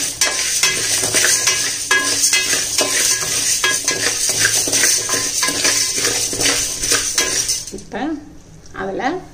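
Dry ginger is stirred into hot, freshly roasted black gram in a pan, giving busy rattling, scraping and light sizzling up close, with metallic clinks of the spoon, before a brief quieter tail. A voice talks over part of it.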